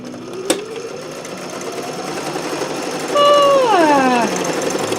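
A domestic sewing machine stitches after being oiled and fitted with a new needle, giving a steady close mechanical whir with rapid rhythmic ticking, a sharp click near the start, and a brief rising-then-falling tonal whine partway through.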